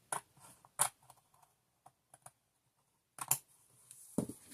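Scissors snip and trim paper for a handmade ephemera folio, giving a few sharp, close cutting clicks separated by quiet pauses, with a longer rasping cut near the end.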